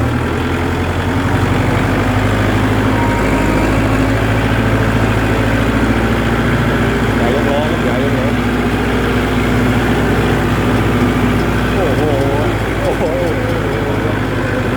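A Kubota L4708 tractor hauling a load of palm fruit out of a plantation, its engine droning loud and steady with a constant low rumble and no breaks, close by throughout.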